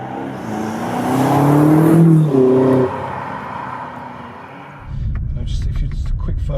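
A BMW M8 Competition pulls hard through first gear on an open road, its engine note rising loudly for a couple of seconds before easing off, then a low rumble continues beneath.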